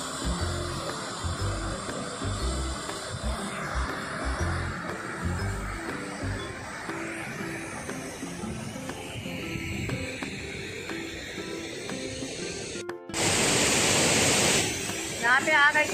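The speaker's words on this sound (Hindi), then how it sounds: "अभी हम लोग भटिंडा वाटरफॉल पहुँच चुके हैं" Rushing water of Bhatinda waterfall near Dhanbad, a steady broadband roar that continues throughout, with a voice talking over it and a sudden louder surge of spray noise near the end.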